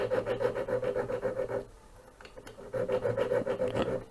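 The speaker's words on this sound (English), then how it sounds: "And just file a bit down." A metal file rasps back and forth on a Hornby Black 5 model locomotive coupling clamped in a vise, making quick rhythmic strokes in two bursts separated by a short pause, close and fairly quiet.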